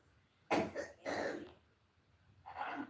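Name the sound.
woman coughing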